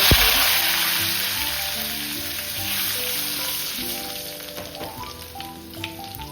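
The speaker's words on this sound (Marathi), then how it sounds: "यामध्ये जिरं घालून घेऊ आता इथे जे हिंग घेतलं होतं ते आपण घालून घेऊया" Cumin seeds and asafoetida crackle and sizzle in hot oil for a rural matki rassa, a loud, dense frying hiss at the start that gradually settles into softer bubbling, with no talking.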